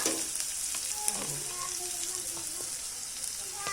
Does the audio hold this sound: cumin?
yes